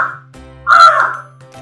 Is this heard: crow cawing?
yes